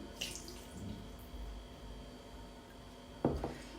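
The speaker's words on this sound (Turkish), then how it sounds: "Peynir altı suyumu koyuyorum." Whey poured into a mixing bowl holding yeast and olive oil for baby bread dough, a soft liquid trickle running faintly through the clip, with a brief louder splash near the end.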